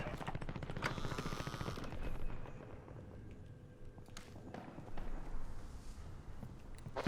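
Quiet, distant bursts of automatic gunfire in Call of Duty Warzone, scattered shots crackling through a quads battle royale match, with no talking over them.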